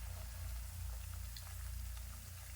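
Food frying in hot oil on a gas stove at medium flame: a faint, steady sizzling hiss with soft bubbling that runs on without a break.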